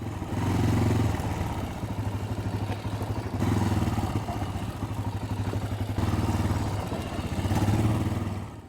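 A four-wheeler ATV drives over black walnuts to break their outer husks, its engine droning and revving in repeated surges with rattling clatter, close and steady.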